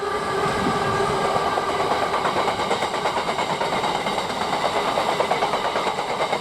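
A freight train of FWA and FBA wagons, running from Southampton to East Midlands Gateway, rolls past close at a mainline station with a loud steady rumble and rhythmic clickety-clack of wheels over rail joints.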